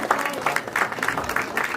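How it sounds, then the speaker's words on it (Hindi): Audience applause at a stand-up comedy show, a short burst of pulsing claps from the crowd, moderately loud and steady for a couple of seconds. "तालियां बजा दो अगर अच्छे दर्शक हो"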